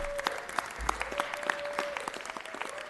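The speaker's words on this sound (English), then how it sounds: "Why don't we give him a round of applause?" An audience at a city council meeting gives a round of applause, heard as a thin, moderately quiet patter of separate claps with a faint steady tone running beneath it.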